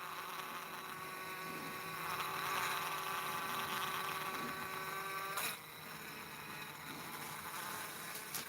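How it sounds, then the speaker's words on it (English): A swarm of honeybees hums around flowers and hives in Kyiv, Ukraine, a steady droning buzz that swells slightly midway, with one bee zipping close past the microphone before the hum settles again. "Buzzing honeybees,"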